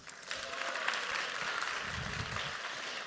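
An opera audience at an LA Opera panel event applauds in a steady, full round of clapping that swells and holds, continuous throughout with no voices on top.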